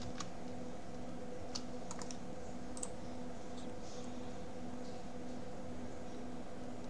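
Sparse, faint clicks and taps from a computer keyboard during coding work, scattered irregular keystrokes over a quiet room hiss with no talking.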